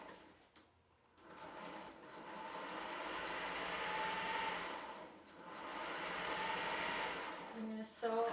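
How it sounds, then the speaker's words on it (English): A sewing machine stitches quilt fabric pieces, running in a steady mechanical whir with rapid needle rhythm, pausing briefly near the start and again midway before resuming, fairly close and moderately quiet. "So I'm going to go ahead now and go to the sewing machine."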